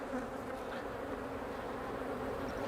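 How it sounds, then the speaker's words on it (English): Honey bees crowd inside a hive during a fall inspection on an overcast day, making a low, continuous, close buzzing hum that stays soft and even the whole time. "overcast, all these bees in here, normally a lot of these bees would be out foraging"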